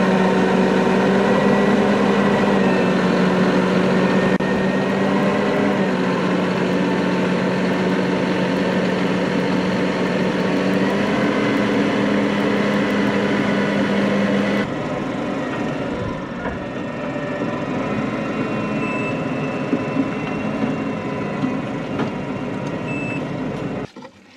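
A vehicle engine drones steadily at close range as it drives onto a weighbridge scale for grain receiving, a loud continuous rumble with a faint, steady tonal whine that shifts slightly midway.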